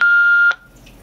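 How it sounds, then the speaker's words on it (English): A GPS-equipped DMR handheld radio, standing upended outdoors, sounds one loud, close, steady alarm beep lasting about half a second, then falls to faint background quiet. "It cycles through the alarm mode."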